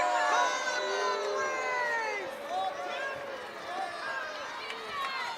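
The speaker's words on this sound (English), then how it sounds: "I don't think the Vinton crowd liked that call right there" At a girls' state basketball semifinal, the gym crowd reacts to a referee's call with sustained shouting and jeering, sneakers squeak sharply across the court, and a commentator talks over it.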